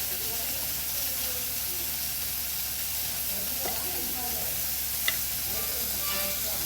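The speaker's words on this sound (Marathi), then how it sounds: "आता आपण मांदेली फिश फ्राय करणार आहोत." Mandeli fish coated in masala fries in a little oil, Malvani style, with a constant close, hissing sizzle and a couple of faint scrapes and a brief tap.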